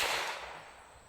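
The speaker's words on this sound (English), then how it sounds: "All right, first shot of the day." A single close rifle shot from a Rough Rider .22 long rifle loaded with 40-grain rounds, fired at a transformer: one sharp crack that fades quickly into a short ringing decay.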